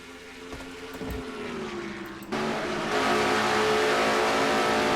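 Race cars in a sim racing game, Castrol GTX Cup Series at Riverside, produce a steady, loud engine drone that swells and brightens partway through as the cars come off a corner.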